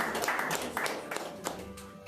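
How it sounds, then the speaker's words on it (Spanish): A church congregation claps in praise during a service, a fairly quiet, uneven patter of hands with a few sharper claps and thuds standing out, heard without talk over it. "Dale un aplauso a Dios."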